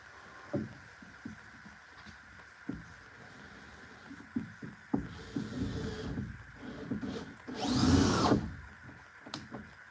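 A cordless battery-powered drill drives screws in short bursts, with a longer, louder whirring run near the end as the weakening battery struggles through the last few screws.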